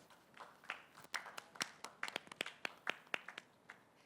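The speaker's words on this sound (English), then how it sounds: "Please, a round of applause for Ada." A small audience at a startup pitch event claps for a presenter, with sparse, distinct, irregular handclaps popping out one by one against a quiet room.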